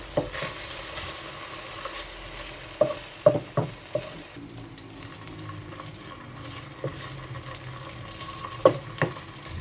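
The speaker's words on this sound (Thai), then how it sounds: "กระเทียมก็ผัดไปเรื่อยๆนะคะ เราใช้ไฟอ่อนนะคะ" Garlic sizzles steadily in a pan over low heat while a spatula scrapes and taps the metal every few seconds.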